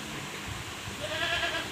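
Goats bleat at a farm during feeding, a wavering cry rising out of steady background noise in the second half, moderately close.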